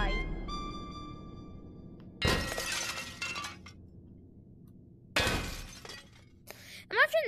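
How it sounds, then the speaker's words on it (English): Toilets get smashed with a frying pan in the video game Kill It With Fire. Two loud crashes of shattering porcelain land a few seconds apart, each trailing off into falling shards. A voice talks between the hits, with squeaky game sounds near the end. "walking around into female and male bathrooms, just smashing all the toilets with a frying pan"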